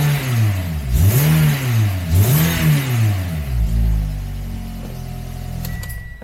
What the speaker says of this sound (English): And then when you rev it out, it sounds